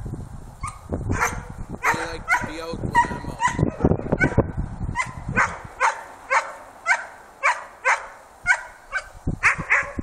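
Several Swedish Elkhound (Jämthund) dogs bark repeatedly nearby in sharp, evenly spaced yips and barks, with someone talking over the first few seconds before the barking continues alone.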